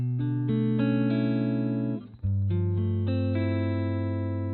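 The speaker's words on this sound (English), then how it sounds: "here's just the straight sound of the amp without any effects whatsoever." Electric guitar through a Roland JC-120 amplifier playing clean, sustained notes with no effects, with a brief scrape and dip in the middle before ringing chords resume.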